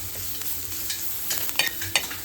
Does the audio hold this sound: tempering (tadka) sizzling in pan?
yes